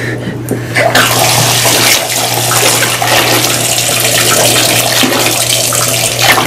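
A strong stream of tap water pours continuously into a basin while dirty fidget toys are rinsed, loud and close, with a gushing, splashing texture throughout.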